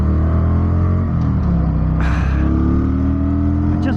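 A Kawasaki Vulcan 900 cruiser motorcycle engine revs loudly up close, its deep rumble climbing and falling in pitch with a brief sharper surge midway, sounding busy without much pulling power.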